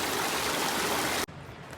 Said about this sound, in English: tons of water in the creek.